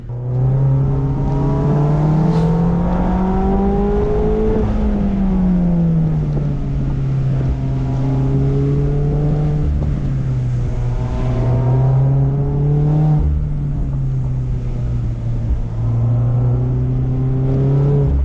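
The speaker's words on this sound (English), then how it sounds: "the footage you're about to see is my Indy Miata's first tail of the dragon run" An Indy Miata, a Mazda Miata, runs the Tail of the Dragon with a loud, continuous engine drone from inside the car. The pitch rises and falls through the curves as it accelerates and eases off, and no talking is heard.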